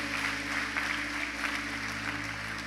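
A church congregation applauds in a steady, diffuse wash of clapping heard at some distance under a sustained hum.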